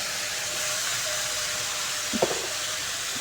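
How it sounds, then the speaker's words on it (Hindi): Peas fry in a pan with a steady, loud sizzling hiss as turnip is added, and a brief clatter of the pieces dropping in near the end. "अब मटर हमारे फ्राई हो रहे हैं, तो अब इसके अंदर हम डालेंगे शलगम"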